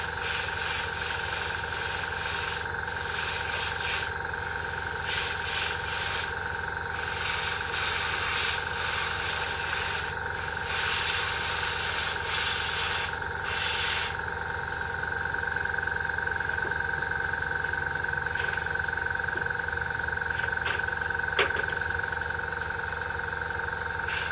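Steady airbrush spray hissing as paint goes onto a Sea Flanker scale model over primer, a continuous close hiss broken by a few short pauses and slight changes in pressure.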